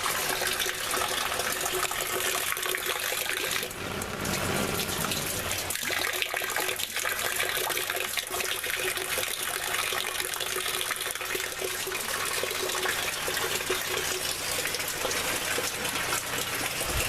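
Water pouring steadily from a hose into a 40-gallon rain collection container on an off-grid homestead, a continuous loud gushing rush that stays even throughout with no talk.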